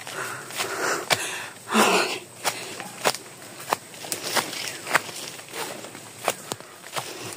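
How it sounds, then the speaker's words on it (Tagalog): Heavy, ragged panting from someone hiking up a steep mountain trail, breaths rising and falling in a steady rhythm close by, mixed with footfalls on the ground. "Hinihingal lang ako."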